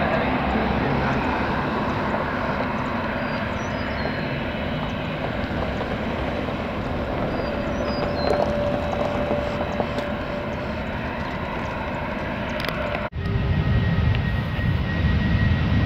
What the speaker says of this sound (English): First time catching a Frontier A321neo.